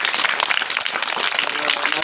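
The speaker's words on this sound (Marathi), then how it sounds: "मॅडम साठी जरा जोरदार टाळ्या वाजवा" A crowd at a charity blanket-distribution event claps loudly for an honoured woman guest, a dense, continuous burst of applause with voices mixed in.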